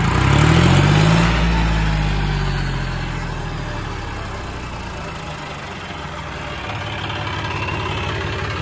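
A John Deere 5310 tractor engine idles steadily, a low continuous rumble loudest at the start that softens slightly midway and holds on alone with no talking.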